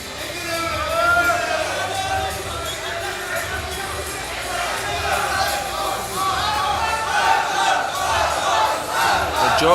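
A crowd roars and cheers continuously at a 2023 European Championship seniors right-arm arm wrestling final, the loud sustained cheering and shouting building toward the end.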